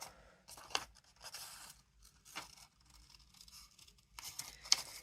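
Scissors snip through paper while cutting out a snowman shape, several short, quiet cutting strokes spaced irregularly with brief pauses between them, close by and alone.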